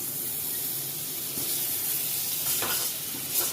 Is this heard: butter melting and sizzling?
yes